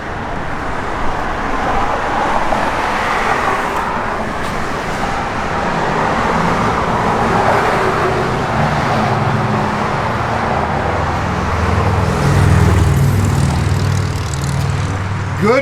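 A 1964 Chevrolet Malibu SS with a 383 stroker V8, Edelbrock AVS four-barrel carburetor and roller camshaft runs steadily nearby, a continuous loud engine drone that swells slightly toward the end.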